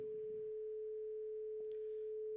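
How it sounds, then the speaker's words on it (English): A pure, undistorted sine-wave tone holds steady and unbroken at one pitch, clean and continuous, with a faint low murmur near the start and a couple of small clicks partway through. "So if I play this pure tone,"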